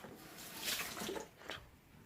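Lukewarm water is swirled in a container, a quiet sloshing and splashing that rises and falls in soft waves close by, with no talking.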